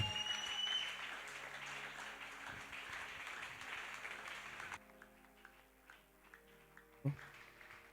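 A church congregation at a French-language service applauds, with dense clapping filling the first half and then thinning to scattered claps over a soft musical background.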